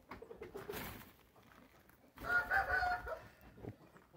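Índio breed chickens kept four to a pen, gold-colored hens and roosters, cluck and call in two bursts, a softer one first and a louder, busier stretch after, close and without talk.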